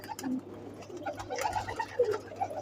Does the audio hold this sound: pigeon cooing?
yes